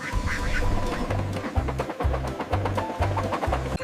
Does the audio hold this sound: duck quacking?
yes